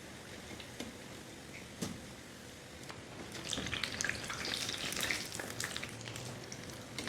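Lachha pakora fry in hot oil with a soft, continuous sizzle and scattered crackling pops that grow busier midway. The sound is quiet and close, with no voices.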